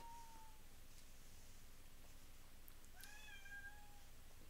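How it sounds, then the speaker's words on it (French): A house cat meows twice, a faint drawn-out call at the start and a clearer, longer one near the end, both distant against a quiet background hiss. "c'est le chat qui tripe devant un placard"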